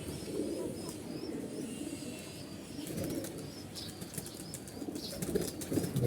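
A flock of pigeons at a loft flaps its wings while lifting off and flying up, a steady papery fluttering that swells toward the end, mixed with soft coos and faint high chirps.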